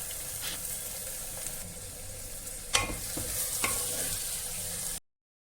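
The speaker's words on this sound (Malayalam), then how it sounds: "മീഡിയം സവാള മൂന്നെണ്ണം എടുത്തിട്ടുണ്ട് അത് ചെറുതായിട്ട് അരിഞ്ഞതും കൂടി ഇട്ടിട്ട് നമുക്ക് നന്നായിട്ടൊന്ന് മൂപ്പിച്ചെടുക്കാം" Chopped onions sauté in a pan for beef biryani, giving a steady close sizzle with scraping stir strokes and a few sharper clinks of the spoon against the pan.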